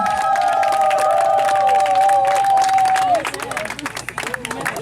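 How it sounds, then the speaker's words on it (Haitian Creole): An audience at a children's event in Léogâne, Haiti, claps and cheers loudly under a shouted voice, the applause dropping off and thinning toward the end. "On les applaudit."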